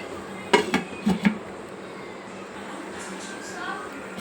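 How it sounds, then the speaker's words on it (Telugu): Eggs whisked in a bowl for an omelette in a home kitchen: a handful of quick clinking strokes against the bowl near the start, then quiet room tone with faint background sounds. "అందుకని పచ్చసొన కొంచెం విడగొట్టుకుందాం"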